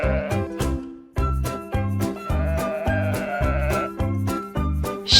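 Sheep bleating in a farm-animal sound set for toddlers, a few wavering calls riding over a steady, looping children's music backing.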